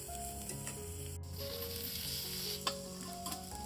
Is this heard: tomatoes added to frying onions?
yes